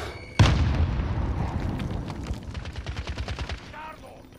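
A grenade blast in a battle royale shooter, one sharp loud explosion followed by a decaying rumble and a string of rapid gunfire close by.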